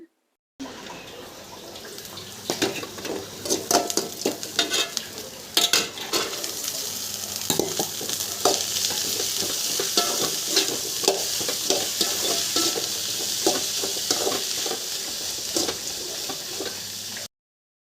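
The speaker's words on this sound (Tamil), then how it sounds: "வாஷ் பண்ணி பொடியாக நறுக்கின பீன்ஸ் ஆட் பண்ணி நல்லா வதக்கிக்கோங்க" Steady sizzling and frying of chopped green beans in a pan with frequent clinks and scrapes of a spoon stirring, close and continuous throughout, no voices.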